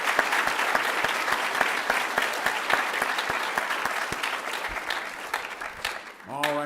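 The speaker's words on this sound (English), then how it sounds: "Let's give them all a round of applause." A school auditorium crowd at a middle school 8th grade promotion night applauds with dense, steady clapping for several seconds that tapers off near the end, where a voice briefly speaks.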